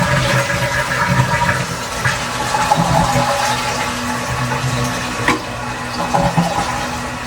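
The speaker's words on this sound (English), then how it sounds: "Flapper dropped. Water level rising quickly." Water rushes and gurgles steadily as a toilet tank refills quickly after the flapper drops, loud and close, with a few small knocks and splashes along the way.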